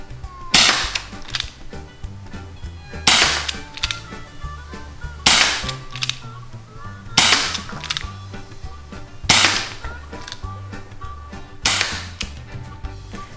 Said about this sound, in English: Now I'm gonna try shooting the extra shells that I bought, the silver ones that were lighter.